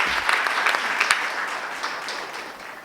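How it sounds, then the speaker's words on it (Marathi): Loud, steady applause from an audience at a Marathi comedy poetry gathering in Akola, greeting the poet Kishor with dense clapping throughout, no voices on top. "एकदा या सादरीकरणासाठी आणि किशोरजींसाठी जोरदार टाळ्या झाल्या पाहिजे"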